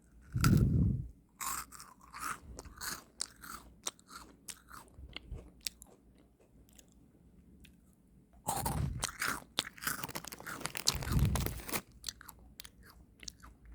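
Close crunching and chewing of a crunchy Crayon Shin-chan chocolate biscuit, with sharp bites followed by steady rhythmic crunching in two bursts separated by a quieter stretch of chewing, no talking.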